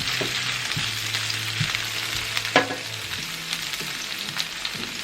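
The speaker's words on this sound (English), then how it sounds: "We're going to fry it for about 5 minutes." Spaghetti sauce ingredients fry and sizzle steadily in a hot pan over lowered heat, with repeated scraping and stirring strokes breaking up small pieces, close and continuous with no talking.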